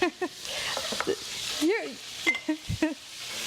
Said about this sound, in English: start by sauteing some onions and celery and carrots